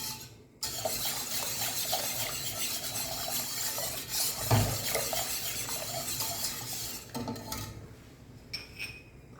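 A white soup being stirred until the flour dissolves in it: continuous close scraping and swishing of a spoon in a pot, with a few louder knocks against the side, steady and alone without talk.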